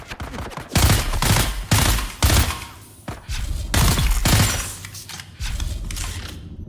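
Rifle gunfire in Dune Awakening, a rapid burst of loud, close shots fired in quick succession with short pauses between volleys.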